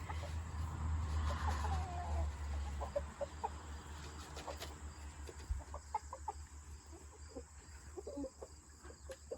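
Backyard chickens cluck and call intermittently while being given treats outdoors, with low rumbling background noise and scattered short clucks across the scene.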